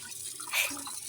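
Water trickling and dripping as a fish aquarium's water is changed, a soft, close splashing with a brief louder swell midway.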